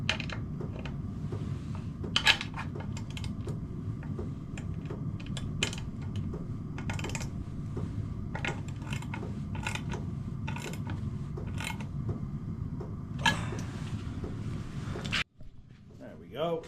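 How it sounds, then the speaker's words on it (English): Spanners tighten the number plate on a Yamaha XT660 motorcycle, giving a series of close metallic clicks and ratcheting taps in irregular bursts, with a brief clunk near the end. "Let's get some spanners and get that nice and tight."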